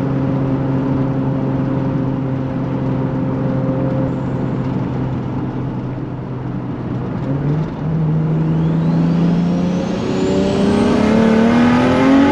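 A 2JZ-engined car pulls hard in third gear, its loud engine note climbing steadily in pitch, dipping at a shift-like break and rising again with a turbo-like whine, heard close and alone.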